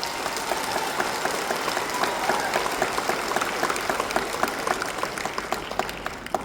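Sharp hand claps, fairly dense and steady over a noisy, crowded background hum, the clap-like transients repeating throughout.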